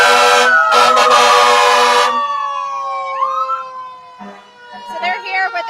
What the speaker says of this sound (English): Hoopers Island Volunteer Fire Department is coming up next. And of course, they've got the lights flashing and the horns are...